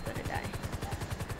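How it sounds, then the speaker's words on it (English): Rapid automatic gunfire in Grand Theft Auto V, fired at a stolen military helicopter, a dense repeating burst of shots throughout with a low rhythmic thump underneath. "they're already shooting shit at us"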